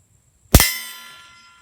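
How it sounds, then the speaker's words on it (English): A single sharp metallic clang rings out as a round from a pistol fitted with a Rugged Obsidian 45 suppressor strikes a steel target outdoors, its ringing tail fading over about a second. "So I'm going to shoot 12 on steel"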